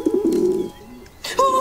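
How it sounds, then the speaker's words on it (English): Pigeon cooing in a TV sitcom scene, several soft low coos close by, followed by a brief burst of other sound and a higher tonal call near the end. "Oh, the pigeon is still there."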